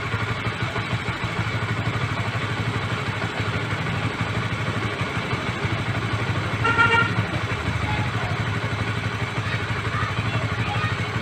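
A fuel-injected motorcycle engine runs steadily after a service, a close, continuous idle with an even mechanical rumble and a brief clatter partway through.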